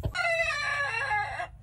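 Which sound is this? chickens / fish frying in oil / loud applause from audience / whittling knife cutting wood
chickens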